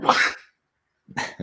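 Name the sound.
sneeze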